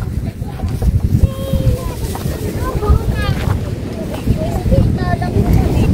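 Strong wind gusting and roaring across the open coast at the Bangui windmills in the Philippines, buffeting the microphone loudly and steadily, with faint voices and a few high chirping tones in the background.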